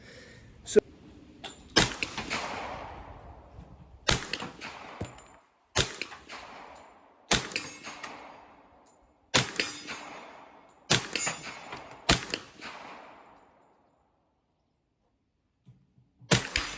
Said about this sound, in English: super comfortable to shoot with that suppressor. Wasn't too loud at all